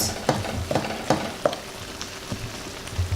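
Beef and tomatoes frying in a pan, with a low continuous sizzle and a few soft stirring knocks spaced about half a second apart, close and moderately loud with no speech.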